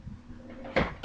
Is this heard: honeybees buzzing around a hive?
no